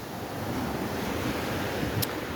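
Rough sea surf and gusting wind roar together in a dense, continuous wash close to the microphone, with wind buffeting the mic throughout and no voices.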